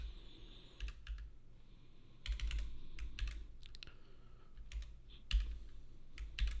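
Keystrokes clatter on a computer keyboard in quick bursts with short pauses between, close and fairly quiet, with no voices.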